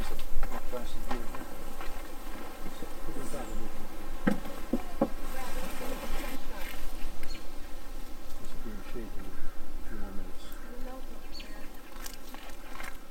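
Bees buzzing around extracted honey, a dense continuous drone of many insects close by with varying pitch, with brief faint sounds from nearby.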